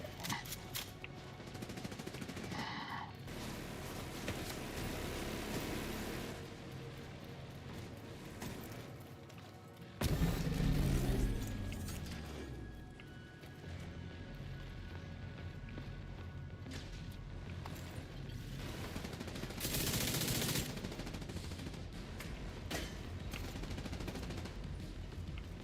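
Video game gunfire crackles in continuous bursts and rapid volleys from a farming session, a busy mix of shots and impacts with a loud blast partway through.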